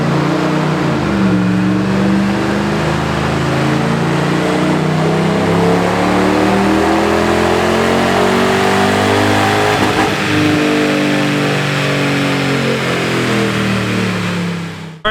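A naturally aspirated Mercedes-AMG C43 engine with 178,000 miles revs hard through a dyno pull, its pitch climbing steadily and loudly for most of the run before easing off near the end, with no talk over it.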